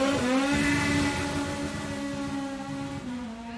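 A Norma M20B race car launches hard from the start line of a hill climb, its engine screaming loudly and rising in pitch before settling into a strong, sustained roar close by.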